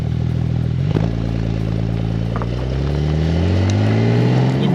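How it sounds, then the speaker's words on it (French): An 800 hp limited-production sports car accelerates hard in Sport Plus mode with an automatic gearbox, its engine note climbing steadily and loud, close and continuous with no voices over it. "Tu sens que vraiment t'effleures l'accélérateur et ça part de suite"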